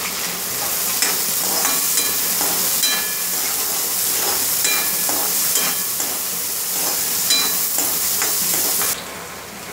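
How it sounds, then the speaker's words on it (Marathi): Onion and coriander sauté in hot oil for a gavar bhaji, a loud, steady close sizzle and hiss broken by repeated scraping stirs, with no talking. "त्यानंतर कांदा आणि कोथिंबीर टाकूया। हे चांगलं परतून घेऊया तेलात।"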